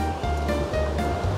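Stream water rushes heavily at Arima Onsen in Japan, a loud, steady roar and churn of fast-flowing water heard close by.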